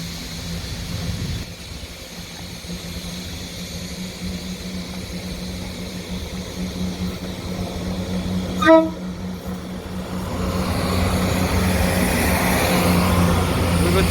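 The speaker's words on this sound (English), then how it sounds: "ScotRail service passing the Strathspey Railway service" ScotRail train passing the Strathspey Railway service at Aviemore: a steady rumble of the passing train, interrupted by one short, sharp horn blast partway through, then a broader wash of rolling noise as it continues past.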